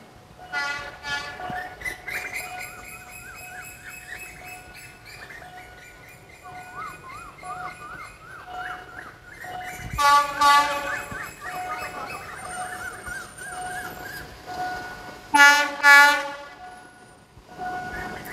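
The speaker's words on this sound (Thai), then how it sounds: "มาแล้วค่ะขบวนธรรมดาที่284กำลังผ่านชุมชนมา" An ordinary passenger train, number 284, rolls through a trackside community near the Yommarat stop and the Rama 6 crossing in the evening. A steady rumble of wheels carries on throughout, with loud horn blasts around the middle and again near the end.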